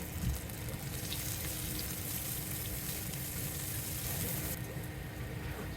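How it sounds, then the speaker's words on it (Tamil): Crushed garlic cloves sauté in hot oil with mustard seeds, giving a steady, dense, close sizzle that hisses evenly the whole time. "8லேருந்து 10 பல்லு பூண்டு 1-2 தட்டி எடுத்து எண்ணெயில் சேர்த்து வதக்கணும்"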